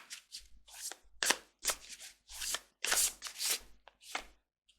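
Angel Wisdom tarot cards shuffled by hand in a series of separate crisp riffling bursts with short gaps between them, close and clear in a quiet room.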